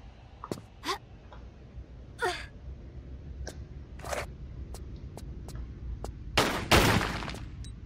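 Shooting and destroying targets in the video game Tomb Raider: scattered sharp single shots at irregular intervals with a few brief bursts of shattering debris, fairly quiet and with no talking.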